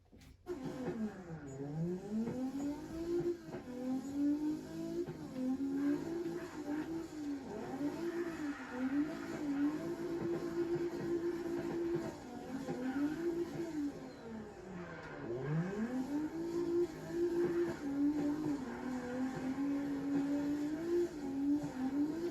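A car engine in the video game CarX Drift Racing drones and revs in repeated swooping dips and climbs, with faint tire noise, as the car drifts through corners; no talking.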